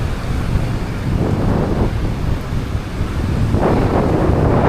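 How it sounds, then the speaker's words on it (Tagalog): Big typhoon-driven ocean waves roll onto the shore at low tide under strong gusting wind, a continuous loud roar with surges of surf building and crashing close by, wind buffeting the microphone throughout. "Kaso grabe pa rin yung laki ng alon"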